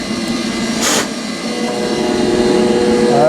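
A Rec Tec Bullseye pellet grill just switched on runs with a steady fan-like whir and mechanical hum close by, joined by a brief sharp hiss near the start, with no talk.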